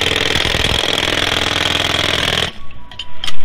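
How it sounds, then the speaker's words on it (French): A power drill runs steadily close by, a loud dense whine with a buzzing texture that cuts off abruptly partway through, leaving a quieter room with faint knocks. "il y a la perceuse, elle n'a pas trop envie que j'en parle"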